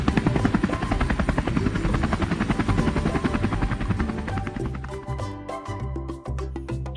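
A helicopter with a loud, steady rhythmic rotor thump and turbine whine, close and dominant, shifting and slowing slightly toward the end.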